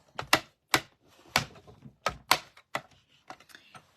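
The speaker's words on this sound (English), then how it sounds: "I'm going to bring in my mini Stampin' Cut and Emboss machine" A mini Stampin' Cut and Emboss machine is set down and handled on a crafting table, making a series of sharp, close clacks and knocks with short pauses between them, with no one speaking.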